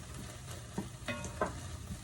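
Onions and celery with a spoonful of broth sauté in a pan, a soft, quiet sizzle broken by a few light clinks and scrapes of stirring.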